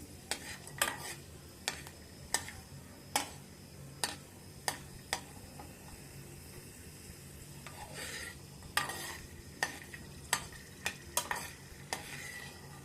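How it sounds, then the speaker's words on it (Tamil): Garlic and spices dry-roasting in a pan for idli podi, with a spoon stirring and scraping at irregular intervals over a faint steady sizzle, close by and without talk. "டர்ன் பண்ணி நல்லா அதை எல்லா பக்கமும் நல்லா ரோஸ்ட் ஆகணும்"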